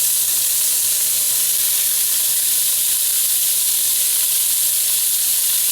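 Beef browning in a hot pan, a loud, constant close-up sizzle and hiss with no pauses and no voices.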